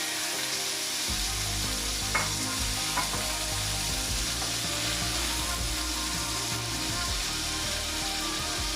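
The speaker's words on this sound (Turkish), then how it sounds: "Kızgın ettikten sonra etimizi bırakıyoruz." Meat for dürüm sears on a very hot pan, a loud, steady frying sizzle running throughout with a few small clinks and scrapes, no voices.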